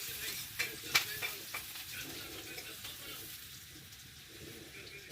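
Mustard oil heating over a low flame in a kadai for mushroom curry gives a faint, soft sizzle, with a few light clicks and knocks from the pan.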